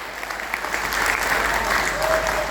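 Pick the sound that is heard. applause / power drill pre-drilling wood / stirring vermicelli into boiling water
applause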